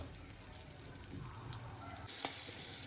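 Fresh green peas sizzle softly in a pan while egg bhurji is cooked, a faint steady frying hiss with a brief clatter near the end and no voices.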